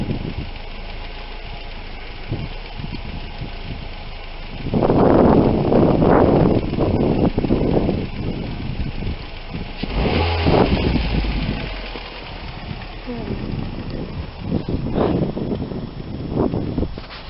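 A car stuck in deep snow during a blizzard revs its engine in loud surges that rise and fall, with wind buffeting the microphone between the bursts.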